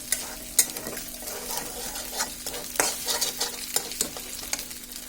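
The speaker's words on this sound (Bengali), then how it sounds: "এটাকে ভালোভাবে মিশিয়ে নিচ্ছি এখন ডিমের সাথে" Ingredients being mixed with egg in a hot pan, with repeated close scraping strokes of a utensil over a soft frying sizzle and no voices.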